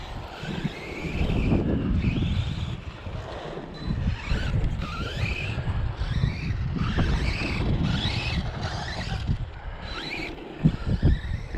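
An RC car with wide 43 mm by 85 mm tires drives and drifts, a steady whirring motor with rising and falling whine and rumbling tire noise, with wind buffeting the microphone.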